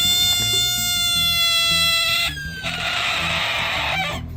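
A frog's loud, drawn-out wailing cry with a harmonic, meow-like tone, held for about two seconds, then a second harsher, buzzier squall.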